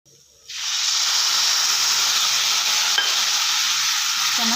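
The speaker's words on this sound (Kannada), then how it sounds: "ಇವಾಗ ಹುಣಸೆಹಣ್ಣಿನ ರಸ ಹಾಕ್ಕೊಳ್ಳೋಣ." Tamarind juice is poured into a boiling green chilli mixture for North Karnataka style boiled chilli chutney: a sudden loud sizzle starts after half a second and settles into a steady, close hiss of bubbling liquid.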